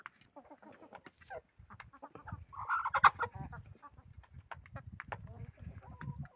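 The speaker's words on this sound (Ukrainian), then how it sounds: "Ось такі в мене курочки." Hens clucking and cackling close by, with a louder squawk midway and a voice murmuring among the farmyard noise, ducks also kept nearby.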